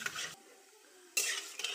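Panch phoron five-spice seeds fry in a pan for a vegetarian pumpkin, potato and chickpea dish, giving two short bursts of crackling sizzle and stirring scrapes separated by a quieter pause.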